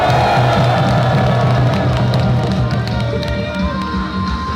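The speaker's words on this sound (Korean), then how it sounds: "다 함께 큰 감사와 격려의 박수 부탁드리겠습니다." A crowd applauds at an outdoor ceremony declaring the permanent shutdown of Hanbit Unit 1, loud steady clapping and cheering from many people with a few voices mixed in.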